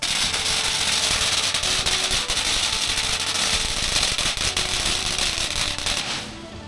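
Firecrackers tossed into a burner at Wat Chalong temple in Phuket go off in a rapid, sustained barrage of loud cracking bangs, close and dense, that thins out at the very end.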